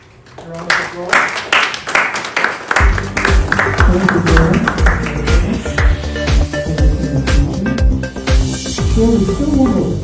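A dense burst of audience clapping at a Dyslexia Awareness Month 2020 program rises after a quiet start and runs throughout, with a voice speaking over the applause.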